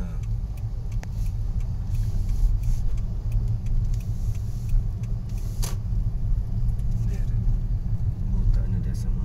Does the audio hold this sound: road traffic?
yes